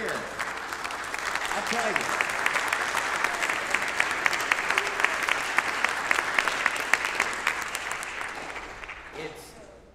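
Audience applause at a St. Charles County Youth Orchestra concert: dense, sustained clapping from a crowd, loud and even, then tapering off at the end, with a voice speaking briefly over it.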